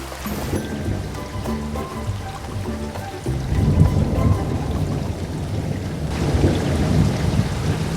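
Heavy rain pours steadily in a cartoon scene while deep thunder rumbles underneath, swelling louder midway and rolling on continuously with no voices.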